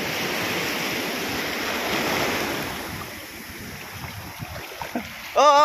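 Ocean surf rushes and roars, a broad wash of breaking waves that swells then eases, with a few small knocks and a sharp sound at the end.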